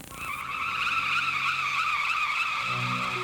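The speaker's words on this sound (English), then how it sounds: "Drift racing is basically racing around sharp turns." Drift cars screech through sharp turns, their tires squealing in a long, loud, wavering shriek that carries on continuously, with engine rumble rising beneath it near the end.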